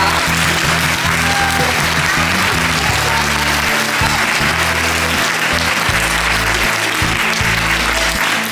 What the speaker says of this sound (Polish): Zasłużyła na pięknie brawa.